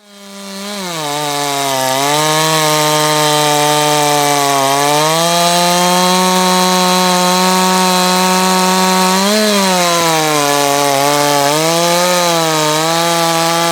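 A hot-rod chainsaw revs up and runs hard and close, holding a loud, buzzing whine that dips and rises in pitch a few times as the throttle shifts, with no talk over it.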